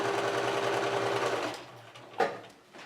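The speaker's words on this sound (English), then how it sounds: "I'm just going to sew straight across" A sewing machine stitches jelly roll quilt strips together in a steady, fairly quiet mechanical whir that runs for about a second and a half, then stops, followed by a brief handling clack.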